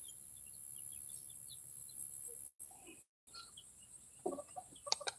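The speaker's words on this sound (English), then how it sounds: "the little baby chickens." Eleven baby chickens give faint, scattered peeps and soft clucks close by, quiet at first and then more frequent toward the end.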